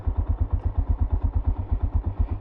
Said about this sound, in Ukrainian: Не хочу виключати мотор, бо акумулятор дуже слабенький.